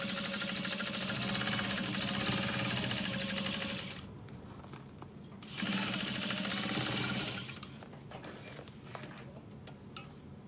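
A sewing machine stitches a half-inch seam through fleece at a small stitch length, running in two steady bursts with a pause between, close and moderately loud.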